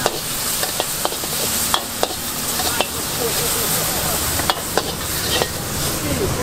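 A Thai street vendor stir-fries pad kra pao mu: a loud, steady close-up sizzle with sharp spatula scrapes and clanks against the pan at irregular intervals throughout.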